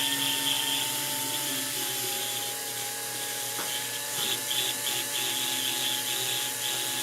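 A dental drill burr cuts a porcelain-fused-to-metal crown prep on an anterior tooth, a steady high whine with faint pitch shifts and brief grinding touches, no talking.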